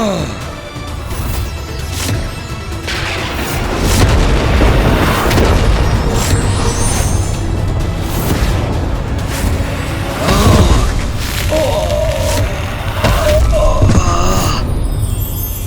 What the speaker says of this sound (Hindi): ये कैसा विस्फोट था?